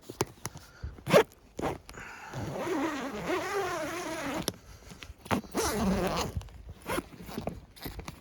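Repeated short zipper pulls rasp open in bursts, with a longer drawn-out zip in the middle, heard close up at a camp on a trail outing.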